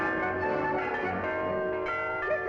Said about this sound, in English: Listen, girls, the bells.